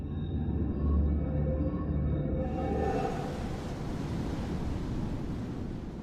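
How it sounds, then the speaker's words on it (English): Steady ocean surf at Flint Island, a broad wash of breaking waves on a short reef, continuous and moderately distant, mixed with wind. "The reef here is so short, so the waves are breaking right there."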